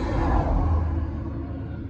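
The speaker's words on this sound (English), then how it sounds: "There's a lot of traffic." Heavy highway traffic rolls past beside a stranded GT86 sports car at the roadside, a loud continuous low rumble that slowly fades and thins as vehicles pass.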